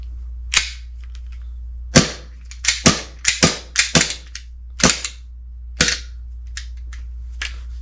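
RWA Agency Arms EXA airsoft pistol firing about a dozen sharp snapping shots, some single and some in quick bursts, close and loud over a low steady hum.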